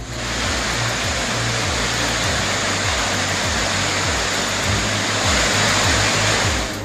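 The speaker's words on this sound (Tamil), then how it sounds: "நேற்றிரவு தொடர்ந்து பெய்த கனமழையால் கும்பக்கரை அருவியில் தண்ணீர் ஆர்ப்பரித்து கொட்டுகிறது." Water roaring down Kumbakkarai waterfall after heavy overnight rain: a loud, dense, unbroken torrent of crashing water, with a faint low engine-like hum running beneath it.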